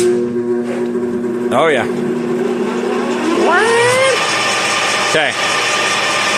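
A LeBlond Regal lathe runs steadily and climbs to about 491 RPM, giving a constant mechanical drone with whirring pitch sweeps as it speeds up, while someone speaks briefly over it.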